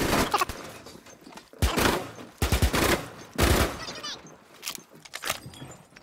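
Gunfire in Rainbow Six Siege comes in several loud bursts of rapid automatic fire separated by short pauses, close and harsh, with brief fragments of voices between the shots.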